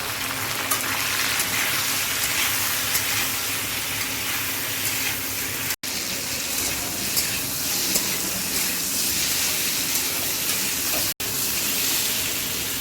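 Pieces of rui fish frying in hot oil with salt and turmeric, a dense, steady crackling sizzle held close for a long stretch, broken by two brief cuts to silence, no speech.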